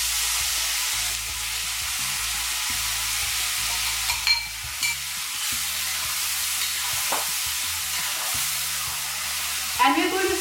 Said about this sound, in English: we're going to saute these tomatoes till the oil separates